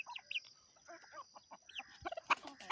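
Free-range native country chickens on a farm clucking in short, irregular bursts, several birds near and a few farther off, with no talk over them.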